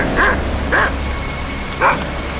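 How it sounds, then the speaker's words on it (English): A dog barks three times, sharp and close, in quick pairs then a pause, over a low steady background rumble. "Your dog, I assume."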